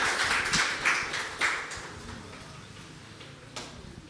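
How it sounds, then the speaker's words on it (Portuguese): A church congregation applauds during a Father's Day service, a dense burst of clapping that peaks early, then thins out and fades to scattered claps in a quieter room. "Você pode aplaudir a Ele."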